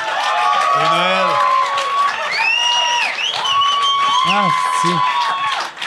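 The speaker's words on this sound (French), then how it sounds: "Une bonne main d'applaudissement." A small group claps and cheers at a festive holiday gathering, the applause sitting under loud, animated talking and laughter that dominates throughout.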